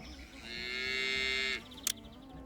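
One long, loud cow moo from cattle at a ranch in the game Pharaoh: A New Era, sustained for over a second, with a brief click afterward and quiet background ambience.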